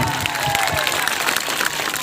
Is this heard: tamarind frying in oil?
no